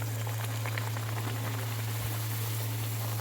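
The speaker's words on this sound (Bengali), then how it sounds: "তেল গরম হয়ে গেছে, মিডিয়াম হাই ফ্লেমেতে আমি কচুরিগুলো ভাজবো।" Sattu kachori deep-fry in hot oil over a medium-high flame, giving a dense, even bubbling sizzle that holds steady throughout, close and without talking.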